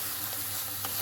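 Fish sizzling and frying in a pan with chili powder, a steady close hiss with faint stirring scrapes throughout.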